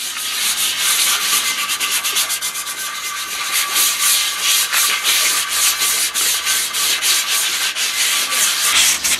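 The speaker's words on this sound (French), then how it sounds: "Alors on ponce au 180 à sec." Dry hand-sanding of Citroën 2CV wheel rims with 180-grit paper: a loud, rapid back-and-forth rasping scrub, close up and continuous, with rhythmic strokes and no voices.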